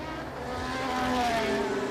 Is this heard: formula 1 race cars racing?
yes